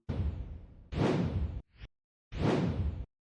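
Whoosh transition sound effects from the CapCut editing app: three separate swooshing sweeps with a brief flick between them, loud and close with silence in the gaps.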